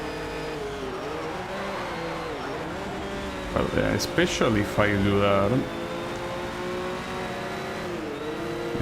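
Racing car engines in the Need for Speed Shift 2 video game drone steadily and close throughout, with a brief burst of louder revving and gear changes in the middle, under continuous commentary from a player.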